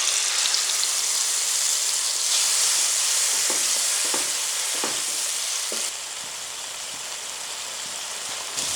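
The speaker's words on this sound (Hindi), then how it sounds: "इस मसाले को मैंने 4 मिनट भूना है" Ginger, garlic, green chili and tomato-onion paste masala fries in a pan with a bright, dense sizzle like rain, a few spatula taps, the hiss dropping slightly partway through.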